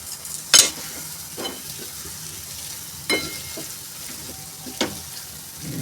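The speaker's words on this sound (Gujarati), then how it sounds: "હવે આપણે એમાં લીંબુનો રસ નાખીશું અને આપણે એને સરખી રીતે હલાવી દઈશું।" A spoon stirs sabudana khichdi with lemon juice in a pan over low, steady sizzling, with a few distinct scraping and tapping strokes spaced seconds apart.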